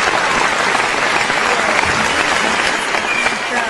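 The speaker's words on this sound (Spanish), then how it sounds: "Aplauso grande para recibir a Mar Martínez en Meta Sábado." Steady, loud applause from a crowd fills the whole stretch without a break.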